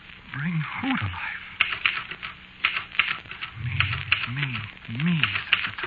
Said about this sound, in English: And the typewriter clacked away.